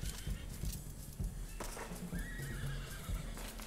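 A horse whinnies loudly with a rising, wavering neigh, while hooves clip-clop in an uneven rhythm close by, in the online mode of the video game Red Dead Redemption.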